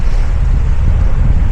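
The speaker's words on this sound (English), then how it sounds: "It is so cold down here this morning. The wind is bitter." Bitter cold wind buffets the microphone on the wild Essex coast near Harwich, a loud, steady, rumbling roar with no speech.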